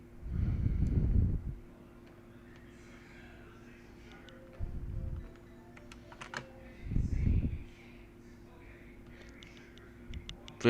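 Faint, irregular clicks of typing on a computer keyboard, with a few soft low thumps between bursts of keystrokes in a quiet room.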